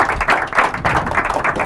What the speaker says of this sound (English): that's a good place to clap if you ask me